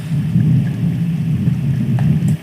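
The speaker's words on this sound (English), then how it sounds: "Yeah, I got eyes on a storm out to the north." Low rolling thunder from a storm in the video game Firewatch, a steady rumble with a faint hiss of rain over it, continuous and fairly loud throughout with no voices.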